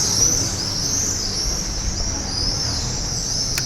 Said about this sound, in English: I think we are welcomed by the local birdies here because they don't stop chirping